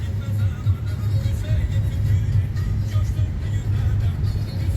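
A car driving along a city street, its low steady engine and road rumble continuous and close throughout with no pauses.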